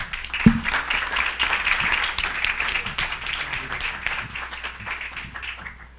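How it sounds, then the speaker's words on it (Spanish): An audience at a closing ceremony for administrative staff and project members claps in a thick, sustained round that begins with a sharp clap and keeps up evenly throughout. "Un aplauso para ellos."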